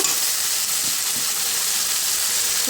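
Spice paste being stirred as it fries in hot oil in a pan for a spicy tilapia curry, a steady close sizzle and hiss throughout with no talking.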